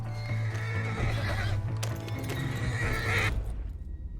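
Horse in Red Dead Redemption 2 neighs loudly with a long whinny over steady hoof clip-clop and game ambience, ending abruptly near four seconds.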